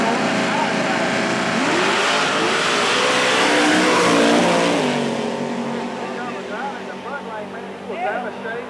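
Drag race car with a 572 cubic inch big block Chevy at a dragstrip, engine roaring loud and steady then fading as it pulls away, with an announcer talking over the noise throughout.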